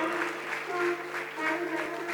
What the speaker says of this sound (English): Can we keep the applause going, ladies and gentlemen, for this great moment of honor,